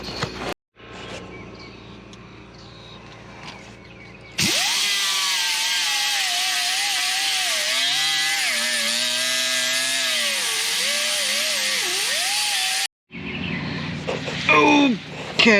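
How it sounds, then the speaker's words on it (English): Power grinder grinding down cut welds on the rear of a Jeep XJ Cherokee, a loud continuous high whine with shifting pitch that runs steadily for about eight seconds, framed by quieter workshop noise before and after. "I've cut the welds. Now I'm grinding this down here."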